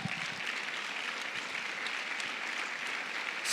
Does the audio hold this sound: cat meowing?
no